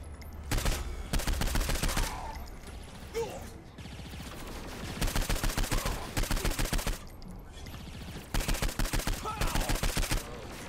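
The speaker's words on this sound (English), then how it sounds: "Let's just go with the SMG." SMG gunfire in the video game Saints Row IV: repeated rapid bursts of automatic fire, each lasting about a second, separated by short pauses, with game background sound between bursts.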